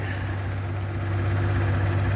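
Old engine in a tractor idling: a steady low hum with an even drone, close and unbroken.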